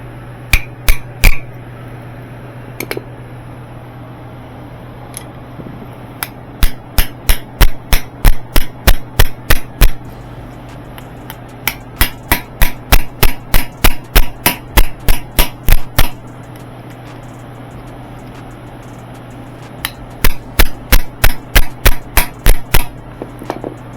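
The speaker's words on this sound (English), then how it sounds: "we're going to get this seal out of here. When you do that, I use an old screwdriver." An old screwdriver works a worn seal out of an old estate washer, giving loud, sharp metallic taps in quick bursts of several strikes separated by pauses, over a steady low hum.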